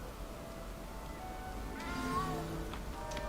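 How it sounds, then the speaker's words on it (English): A small cat meows in the Hogwarts Legacy video game, a drawn-out plaintive call of one or two cries over a steady, tonal game background. "You don't need to be frightened, little cat."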